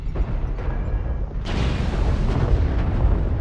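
Incoming missile exploding in a mech combat video game, a loud rumbling blast that swells suddenly partway through and keeps roaring densely to the end.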